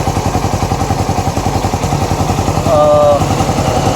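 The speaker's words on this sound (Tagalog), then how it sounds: "so tahimik naman wala naman tayo naging problema sa makina niya" A Raider 150 motorcycle engine fitted with a 68mm steel-bore block runs at a steady idle, its rapid even pulsing loud and close, with a faint whistling tone briefly over it.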